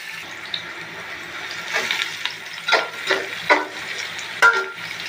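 Chopped onion and garlic fry in a pan, a soft steady sizzle under a few louder scrapes and clinks of stirring near the close.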